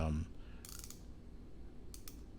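A ratcheting bezel on a Nove Trident ultra-thin quartz dive watch clicks as it turns, with a short burst of crisp close clicks followed by a second brief cluster after a quiet gap, with no voices.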